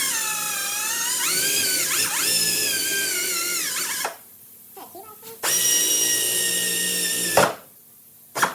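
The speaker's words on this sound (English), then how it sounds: "I'm gonna try to go ahead and drill holes on each side of here" A high-pitched pneumatic air drill whines loudly in long bursts, its pitch wavering as it bites into a wooden 2x4, with brief pauses between runs.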